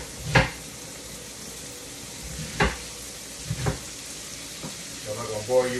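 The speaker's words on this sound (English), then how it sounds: "you can watch the celery saute" Celery sautéing in a pan: a soft, steady sizzle runs throughout, broken by a few sharp knocks and scrapes of stirring, close and fairly quiet.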